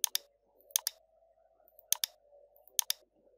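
Four sharp double-clicks of a computer mouse, each a quick pair of close, crisp ticks, spaced about a second apart over a faint steady hum, with no one talking.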